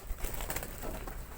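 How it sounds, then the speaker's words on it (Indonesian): Tame pigeons coo softly near the listener, a low continuous burbling over brief rustling, with no talk. "merpati nih pada kumpul kabeh lur"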